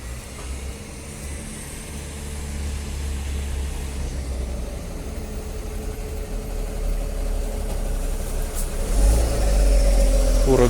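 A KamAZ dump truck's heavy diesel engine rumbles and builds as it drives through a narrow town street, getting louder near the end, with someone talking over it.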